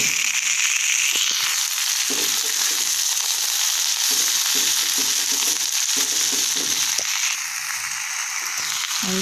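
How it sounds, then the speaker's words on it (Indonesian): Water spinach (kangkung) stir-fries in a pan, giving a loud, dense sizzle with irregular crackles and scraping stirs throughout, and no voices. "untuk kangkungnya sendiri kita tumis"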